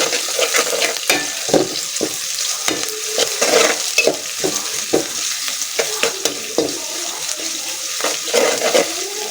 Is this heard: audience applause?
no